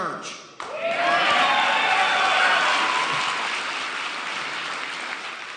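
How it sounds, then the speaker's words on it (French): Crowd applause at an Iowa political rally, starting after a brief sharp knock and then holding as a loud, steady wash of clapping that tapers only slightly over several seconds. "Des applaudissements"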